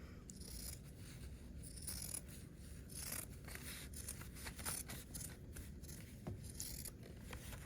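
Scissors trim back the seam allowance on a foundation paper pieced quilt block, quiet crisp snips and rustling paper and fabric sounding close by at low volume.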